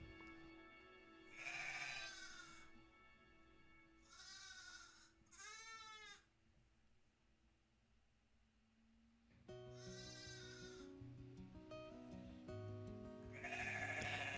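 A ewe and her lambs bleat on a sheep farm, with several clear, wavering calls spaced across the scene over a low background hum, moderately close.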